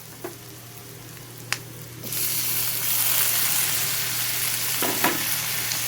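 Tomatoes dropped into a hot pan of browned onions for pepper chicken masala: a couple of light clinks, then a sudden loud hiss of frying that settles into a steady close sizzle with occasional stirring.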